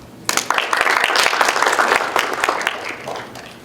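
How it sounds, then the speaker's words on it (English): Applause breaks out from the audience at a startup summit in Las Vegas, a sudden swell of many people clapping that holds for a few seconds and then tapers off. "So let's applause on behalf of him."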